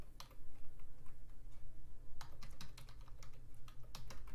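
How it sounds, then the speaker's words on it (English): Rapid keystrokes on a computer keyboard while a terminal command is entered on Linux Mint, sharp clicks coming in quick irregular bursts over a steady low hum, with a pause early on before the typing picks up again. "And then type in the command sudo apt install"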